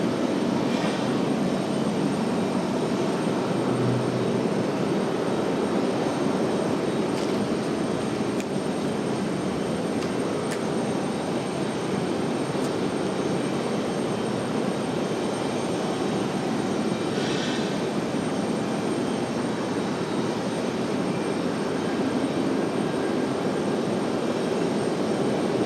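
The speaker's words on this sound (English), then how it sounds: "We should have that A350 push back for Air France back to Paris." An Air France Airbus A350 at an airport sits under a loud, steady jet engine roar that holds constant throughout, a broad sustained rumble with a few faint clicks on top.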